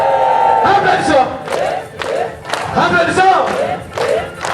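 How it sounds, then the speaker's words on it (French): A crowd at a religious gathering shouts and cheers in repeated loud bursts. Voices rise and fall over about four seconds, with little distinct clapping. "Applaudissons."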